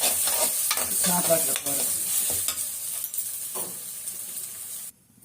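Egg with pepper fries in a pan with a steady close sizzle, stirring scrapes breaking through it, then the sound cuts off sharply near the end; a few spoken words pass briefly.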